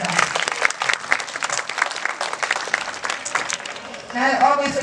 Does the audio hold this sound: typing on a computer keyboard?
no